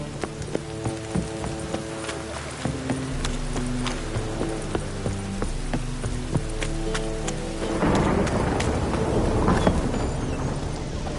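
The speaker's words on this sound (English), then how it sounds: "Real cloudburst." Steady heavy rain pours down with rumbling thunder building toward the end, alongside rhythmic hoof clip-clops and low musical tones underneath, in The Witcher 3: Wild Hunt.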